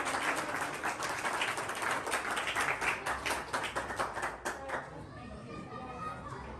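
Audience applause at a school prize distribution ceremony, a dense steady patter of many hands that runs loud for several seconds, then thins and fades with scattered claps as voices carry through.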